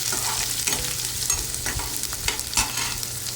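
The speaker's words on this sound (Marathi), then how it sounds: "आता बारीक कट केलेला कांदा घालायचा याच्यामध्ये आणि कांदा व्यवस्थित परतून घ्यायचा आपल्याला" Finely chopped onion sautéing with cumin in hot oil, a dense close sizzle with regular spoon scrapes and light knocks against the pan.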